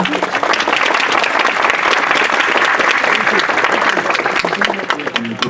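Loud, dense audience applause fills a university anniversary tribute event, a sustained crowd of hands clapping steadily throughout with no break.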